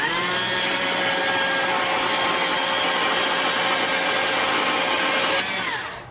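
A chainsaw plunge-cuts into wood while carving an owl, a loud close steady whine of the running engine that drops off at the end.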